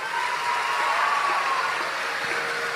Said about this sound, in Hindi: एक बार इनके भाव के लिए ताली बजाएं।